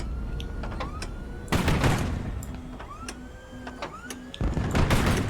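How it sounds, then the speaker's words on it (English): Missiles fire in the HighFleet video game, loud bursts of launch blasts punctuating a busy stretch of rising whines and repeated short beeping tones, with a second heavy volley near the end. "I hear the missile."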